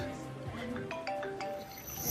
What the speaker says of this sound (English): She complained about the ringing phone killing the mood.